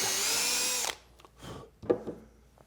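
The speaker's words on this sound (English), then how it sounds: "I use the counter sinking, counter boring bit" A power drill with a countersinking, counterboring bit whines steadily for about a second while drilling pilot holes in hardwood, then stops, followed by a few light knocks and handling sounds.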